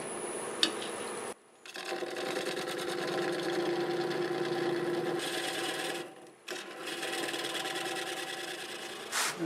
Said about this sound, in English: I think I'll just cut it with my parting tool